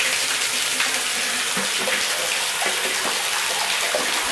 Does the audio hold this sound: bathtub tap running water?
yes